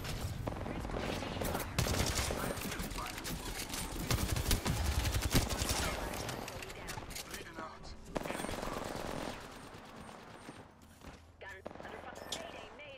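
A dense video game shootout on PC with sustained bursts of automatic fire and overlapping shots that fill most of the stretch before thinning out, while voices talk over the action.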